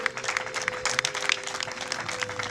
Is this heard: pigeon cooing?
no